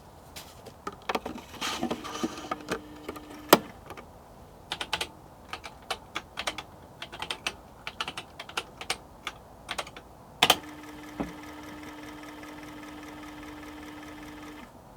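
A retro computer loads a BASIC game program with irregular clicking and ticking bursts, a few sharp snaps and brief steady hum tones, close and fairly quiet against a low background.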